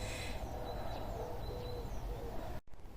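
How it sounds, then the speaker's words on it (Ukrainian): Faint birdsong outdoors, a few thin chirps and calls over a steady background hum, cut by a brief dropout near the end. "Пташки співають."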